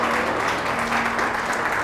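A congregation claps loudly and continuously at a Hindi church service, dense steady applause filling the hall with no talk over it.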